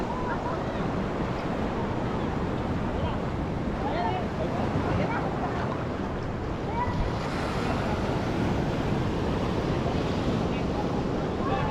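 High-tide ocean waves at Tumok beach in Agno, Pangasinan wash in a steady broadband roar with wind buffeting the microphone, continuous and close.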